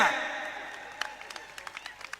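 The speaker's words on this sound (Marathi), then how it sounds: "हा करा की टाळ्या" Crowd applause at a Bhima Kesari wrestling bout between Sikandar Shaikh and Pradeep Singh: a noisy burst that fades quickly, followed by scattered individual claps spaced out across the remaining seconds.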